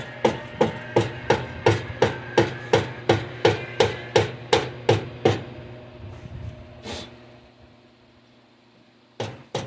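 A rubber mallet taps a slip-on exhaust loose on a 2023 Indian Challenger motorcycle, delivering about fifteen close, evenly spaced knocks at a brisk pace, then a pause with one louder strike and a last couple of taps.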